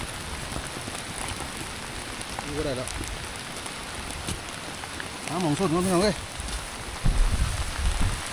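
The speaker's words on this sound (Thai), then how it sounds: "ฝนตก ฝนตก ฝนตก ไปแล้วพี่น้อง" Steady rain hiss fills the background throughout, with a voice speaking loudly over it at moments.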